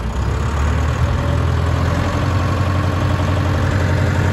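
Tractor engine idling steadily at low revs in low range, a continuous deep rumble with a constant drone, near and loud, no talking throughout.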